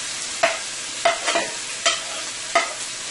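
Onions being stirred in a pan of hot oil, with four or five distinct scraping stir strokes over a soft background sizzle, close and moderately loud, no voices.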